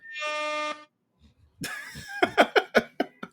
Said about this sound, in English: It was the air horn